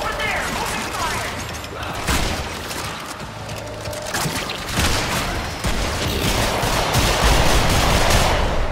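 Gunfire in the Warframe video game, with dense bursts of shots and impacts building to sustained, loud fire near the end, mixed with shouted voices.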